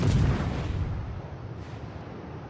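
Heavy naval guns fire in the World of Warships game as a deep booming blast that rolls and fades over a couple of seconds.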